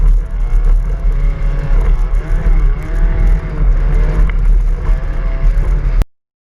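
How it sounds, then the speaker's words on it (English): A Hyundai Excel rally car engine on a khanacross run, recorded on board, growls loudly and continuously with rising and falling revs and gravel rustle before cutting off abruptly at the end. "Here we're riding on board with Stu Hewer in his Hyundai XL"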